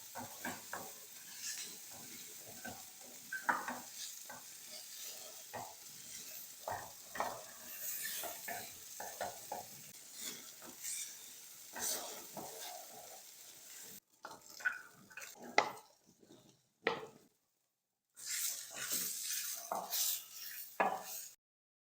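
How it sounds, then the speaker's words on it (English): Vegetables stir-fry in oil in a pan for pineapple jollof rice, a continuous sizzle broken by frequent scraping and stirring clatter, with short quiet gaps later on. "add a little bit of oil into your pan and add the veggies just to stir fry for just a little while"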